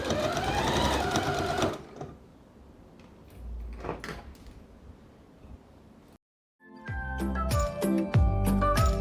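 A sewing machine stitches a seam around the edge of a hygiene-kit towel: a close burst of motor whirring, a long pause filled with soft handling and fabric shifting, then a busy run of stitching with light clatter.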